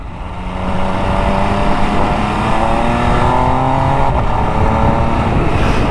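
An MV Agusta 800 Brutale RR motorcycle with a very loud airbox, the engine swelling up after a quieter start and then pulling hard with rising revving tones, close and continuous.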